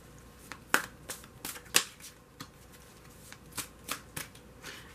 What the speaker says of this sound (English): I don't know why I'm shuffling these